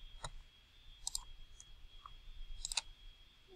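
Sparse clicks of calculator keys being pressed while typing in a calculation, a few separate taps and a quick double press, soft and close over faint background hiss.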